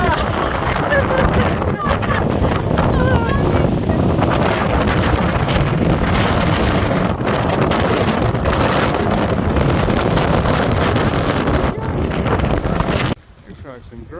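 Strong, steady wind roars and buffets the microphone on Mt Aso in Japan, a dense continuous rush that cuts out abruptly near the end.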